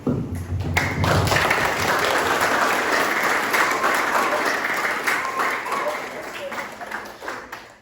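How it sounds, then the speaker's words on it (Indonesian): A crowd claps at a farewell event for university teaching-practice students, dense applause building quickly and holding steady before tapering off near the end, with voices mixed underneath. "Selamat tepuk tangan"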